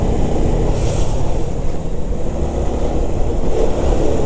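A group of motorbikes including a Bajaj Pulsar 220, NS and FZ models rides together, a steady loud engine roar mixed with heavy wind buffeting on the microphone throughout.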